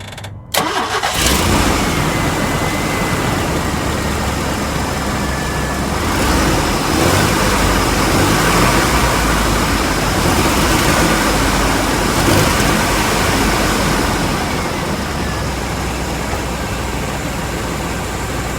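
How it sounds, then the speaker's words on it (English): A 1998 Chevy 1500 truck engine cranks and catches almost at once, then runs loud and close at a steady idle for the rest of the clip with no talk over it. "Let's go on ahead and crank it up and see what she looks like while she's running."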